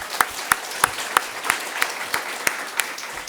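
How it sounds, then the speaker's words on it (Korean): A congregation at a Korean morning worship service claps in thanks, with loud, evenly spaced unison claps about three per second ringing out over a softer spread of scattered clapping across the room. "승리를 주신 하나님께 우리 감사의 박수 드리겠습니다"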